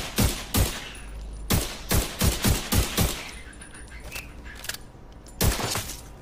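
Rifle fire from an assault rifle build in the video game The Division 2 rings out in sharp bursts: a couple of shots, then a rapid run of about six, fainter pops, and a final pair, with no talk.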